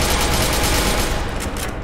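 Dense rapid gunfire from a firefight in the video game SCP: Secret Laboratory, loud and close, a continuous stream of overlapping shots for about two seconds.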